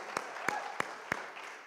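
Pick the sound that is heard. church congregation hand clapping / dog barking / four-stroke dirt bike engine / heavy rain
church congregation hand clapping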